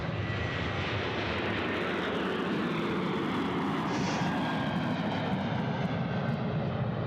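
An Asiana airliner departs Sydney Airport, its engines making a steady, loud broadband roar that holds through the whole stretch without talk.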